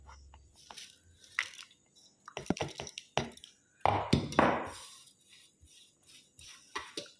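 Soaked bread being mashed by hand with spices: soft, irregular squelching and crushing bursts close up, with quiet gaps between and no talk.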